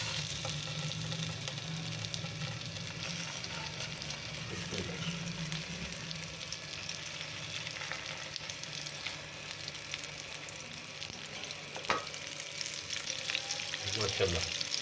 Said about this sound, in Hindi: ये जो दाल और चिकन की टिक्की बनाई थी ये रख देंगे इसमें।